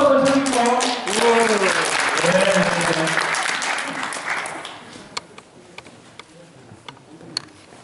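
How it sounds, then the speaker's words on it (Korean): A voice speaks in Korean over a burst of clapping from a small crowd at a government meeting, which thins out into a few scattered claps before stopping. "큰 박수 한번 쳐주세요."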